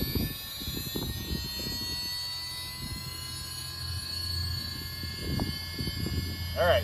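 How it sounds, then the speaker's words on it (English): The flywheel of a remote-controlled stunt motorcycle spins up with a steady, high, layered whine that holds through the stretch, with faint low rumbling and muffled voices underneath. "click flywheel on. And it takes 30 seconds to wind up. Listen to that thing wind up."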